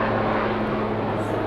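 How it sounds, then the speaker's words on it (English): Helicopter circling overhead, a steady loud rotor and engine drone with low rumbling hum, close and continuous throughout. "And here comes that helicopter."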